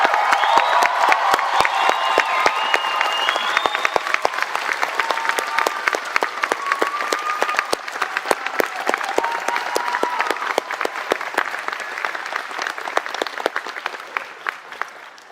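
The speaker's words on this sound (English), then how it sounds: "Let's give them another round of applause." Sustained audience applause at a college convocation for arts and design graduates, a dense steady wash of many hands clapping throughout, with scattered cheers and whoops rising over it, fairly loud and continuous with no speech.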